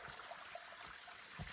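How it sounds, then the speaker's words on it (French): A stream runs beside a muddy hiking trail, giving a steady, soft rushing and trickling wash of water with little change, faint and close by. "Il y a le ruisseau juste à côté, Nunu."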